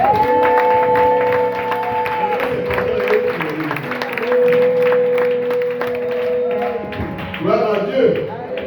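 A church congregation applauding and cheering, with scattered claps and crowd voices blending under loud sustained keyboard and singing tones that continue throughout.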